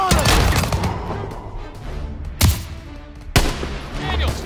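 Gunfire at snipers in Call of Duty WW2, with loud, continuous battle noise and two sharp, close shots cracking out over the din.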